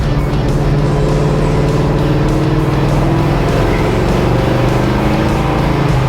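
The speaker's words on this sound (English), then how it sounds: "That's just going into third gear." A 1967 Chevelle SS with a big-block V8 pulls hard under acceleration, its loud, deep engine roar droning steadily from inside the car with rising pitch, and no talking.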